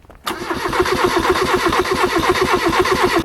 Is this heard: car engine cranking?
yes